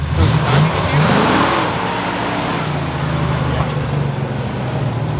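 An abandoned 1969 Ford F250 crew cab truck, driven for the first time in 21 years, revs loudly up close with a rising engine note, then settles into a steady, rough running drone.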